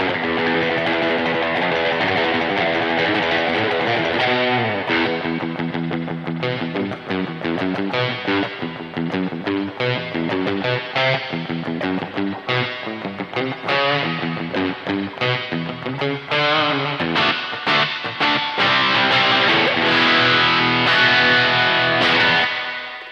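Electric guitar played through spring reverb in a surf rock style, a sustained, twangy, distorted line with rapid picked notes and a washy tail, loud and continuous for over twenty seconds.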